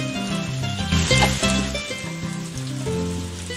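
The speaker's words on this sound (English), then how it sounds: "Oh, it's raining." Constant soft hiss of rain falling in the farming game Harvest Moon: A Wonderful Life, an even static-like patter blended with looping background music, no voices.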